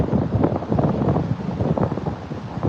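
Gusty wind buffets the microphone during an afternoon walk through New York City streets, a steady low rumbling roar that swells and dips without letting up.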